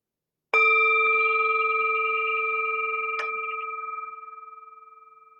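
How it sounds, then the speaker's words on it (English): A meditation bell struck once with a clear, close attack, its steady harmonic tone ringing and slowly fading, with a brief second tap partway through before the long decay continues alone. "we will begin and end with the sound of the bell."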